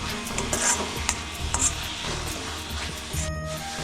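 Mango modak filling is stirred and mixed in a pan, making a steady close scraping and stirring sound over a soft sizzle, with a few light clinks of the spoon against the metal.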